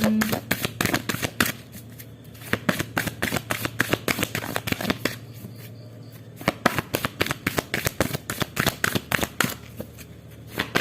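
A deck of tarot cards being shuffled by hand, a steady run of crisp riffling slaps and flutters close up, with a brief pause midway and no talking.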